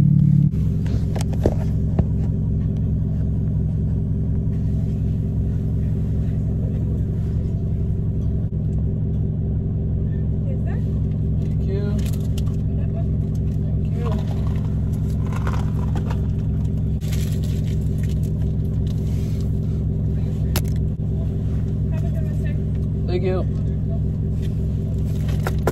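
A car drives through traffic heading for the beach, its steady low rumble of engine and road noise continuous inside the cabin, with faint scrapes and rustles on top.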